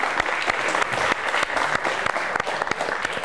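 Applause for Giorgi, a contestant at a student book quiz show, as a crowd claps steadily and loudly in a dense, continuous patter with sharp individual claps standing out throughout.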